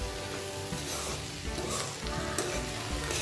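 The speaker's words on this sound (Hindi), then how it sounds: "अब हम इसके अंदर टमाटर ऐड कर देंगे। टमाटर को भी अच्छा मिक्स कर लेंगे।" Tomatoes stirred into a sizzling masala for beans fry curry, a loud, dense continuous sizzle with scraping and spatula movement throughout, no voices over it.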